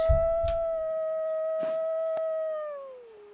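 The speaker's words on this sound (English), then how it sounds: "You can howl from any one of these positions." Wolf howl in a video game, a single long, pure sustained tone held steady for about two and a half seconds before sliding down and fading, preceded by a couple of soft thumps and clicks.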